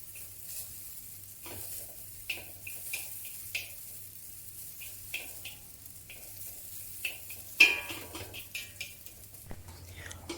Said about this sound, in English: spread the noodles into a thin layer and let them pan fry for a while